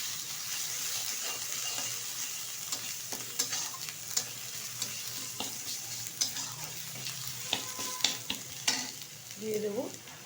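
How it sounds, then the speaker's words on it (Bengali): Ginger garlic paste and chopped green chillies being sautéed together in a pan for Mughlai, a soft continuous sizzle with repeated spatula scrapes and taps, close and fairly quiet. "এবার ভালোভাবে একসাথে কষিয়ে নেব।"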